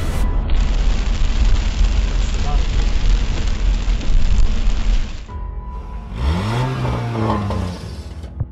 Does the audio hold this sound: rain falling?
yes